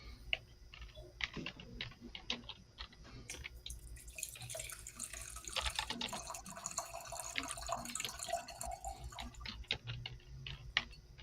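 Very Old Barton Bourbon whiskey is poured into a glass, giving a close, steady trickling splash of liquid with small clinks and taps, at moderate level with no voices.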